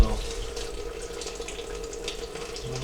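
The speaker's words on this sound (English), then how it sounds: "got the coolant draining out of that little petcock" Coolant drains in a steady, fairly quiet trickle from the radiator petcock of a 1960 Ford F-250 4x4 pickup, a continuous watery hiss and splatter with no talk.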